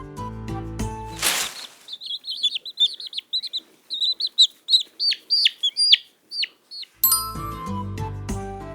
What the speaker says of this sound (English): It's a chick.